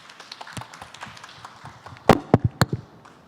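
Applause from an audience at a young farmers' talk show event at an expo, starting as scattered light claps and swelling into a brief burst of several sharp, loud claps near the end.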